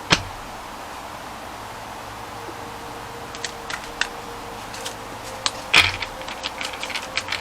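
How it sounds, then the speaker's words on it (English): Tarot cards shuffled by hand make a run of soft, irregular papery clicks and flicks, close and fairly quiet, starting partway through after near-silence, with no talk. "My cards don't want to shuffle."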